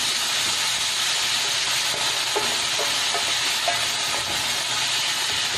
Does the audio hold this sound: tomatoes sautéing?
yes